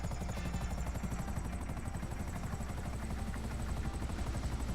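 A helicopter in GTA 5 Online, fitted with digital camo, flies with a steady, loud rotor chop and a continuous engine whine, close and unbroken throughout with no voices over it.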